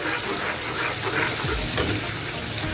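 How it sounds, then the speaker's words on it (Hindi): Spice masala roasts in a pan with added rajma cooking water, a loud continuous hiss and bubbling sizzle with a brief stir partway through. "इसी में मसाले की अच्छे से भुनाई कर लेते हैं।"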